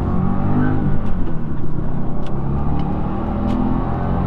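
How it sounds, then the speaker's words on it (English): A turbocharged third-generation Subaru WRX engine pulls hard and steadily under load, a broad continuous roar with a few faint high turbo whistles rising above it. "Really hear that turbo kicking in."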